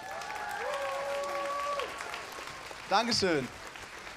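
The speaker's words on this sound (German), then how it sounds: "Applaus!" Crowd applause welcoming a voice actor onto a Q&A panel at the Hanamicon 2024 convention, steady clapping throughout with a voice over the start and a brief spoken thanks near the end.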